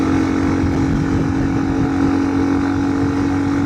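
A big bore Honda CRF300L motorcycle with a stage 3 setup drones steadily on a steep climb, its engine note loud and even at modest RPM, heard close with no speech over it.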